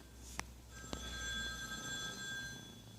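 An old-fashioned telephone bell rings in short bursts from inside a room, with a steady electric tone under the rings and no talking.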